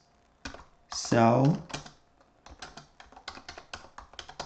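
Quick keyboard typing during a networking lab session: a voice speaks briefly, then a run of light, rapid key clicks follows in an uneven rhythm, close and moderately loud.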